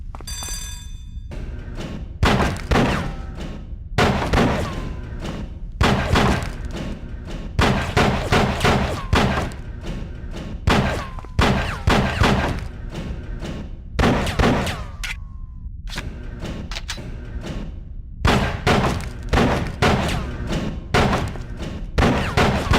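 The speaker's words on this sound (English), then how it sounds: "Excellent shooting, John" Pistol shots at a shooting range in the GameCube game Die Hard Vendetta, loud sharp bursts fired in irregular clusters with short gaps between volleys, close and dominant, with faint in-game sounds between strings.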